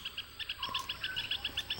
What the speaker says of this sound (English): the twittering of birds